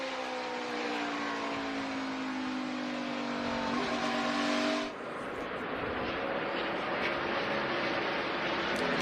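NASCAR race cars at the 2018 Toyota Owners 400 roar continuously at full throttle, engine pitch climbing then dropping sharply as a car shifts or passes, with a dense, loud pack sound throughout.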